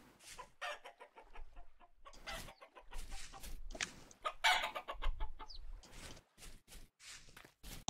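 In the survival game Vintage Story, a hen clucks in short, scattered bursts, some close and loud, mixed with footsteps and other intermittent game sounds.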